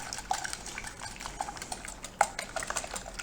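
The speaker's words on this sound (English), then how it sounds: "I'm going to mix the Bailey's, the eggs, and the sugar all together." Bailey's, eggs and sugar are mixed together in a bowl, a utensil scraping and clinking in a quick steady rhythm with a wet sloshing texture, close and moderately loud.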